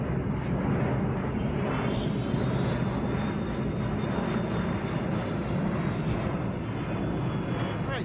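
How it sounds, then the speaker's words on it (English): A FedEx plane flying overhead makes a steady, broad engine roar that holds at even loudness throughout, with no talk over it. "there's a FedEx plane flying over"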